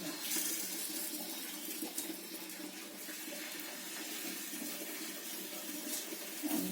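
Water running steadily from a tap, a continuous splashing rush at close range.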